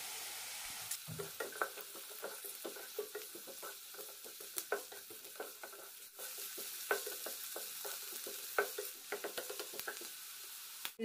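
Carrots sauté in ghee for coconut milk ghee rice with a soft, quiet sizzle, broken by frequent light clicks and scrapes from stirring.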